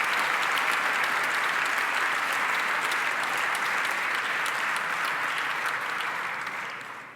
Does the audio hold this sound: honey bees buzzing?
no